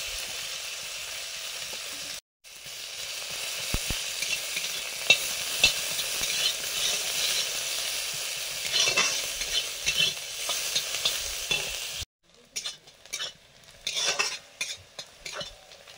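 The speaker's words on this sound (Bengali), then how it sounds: "পেঁয়াজ ভাজা হয়ে গেছে।" Chopped onions fry in mustard oil with a steady sizzle while a spoon scrapes and stirs the pan in repeated strokes, close and continuous, with a brief pause near the end.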